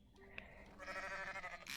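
Sheep bleating in the Ranch Farm Store Simulator video game, a single bleat rising mid-clip over a faint game ambience and soft background tones, no talk.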